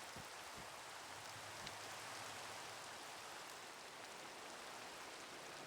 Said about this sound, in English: Let's get out of this rain for a bit.